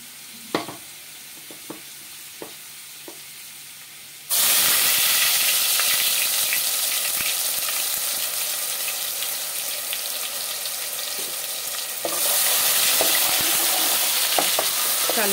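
Prepared masala goes into a hot pan for a farm chicken curry, where it bursts into loud, steady sizzling and frying after a few quiet clinks, then flares up again near the end.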